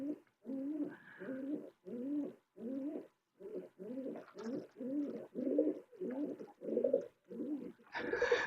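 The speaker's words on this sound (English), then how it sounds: "Especially if the birds start making noise." A dove coos over and over in a steady rhythmic series of soft, low calls, close and clear against a quiet background.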